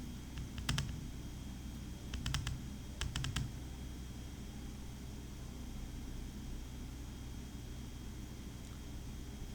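Faint bursts of keystrokes on a computer keyboard, with a few quick clusters of clicks in the first few seconds and then mostly steady low background hiss with no talk.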